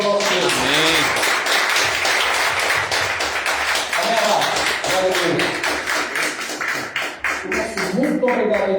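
A church congregation applauding and tapping together at close range, a dense, steady burst of claps lasting several seconds, with voices mixed in beneath the clapping.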